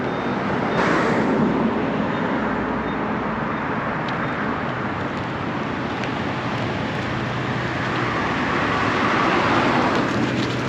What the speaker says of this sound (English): got a truck coming out here